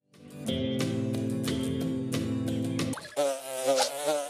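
A bee buzzes steadily and loudly in a Ben 10 video game boss fight with the Queen Bee, a sustained droning hum that shifts into a wavering, rising buzz near the end.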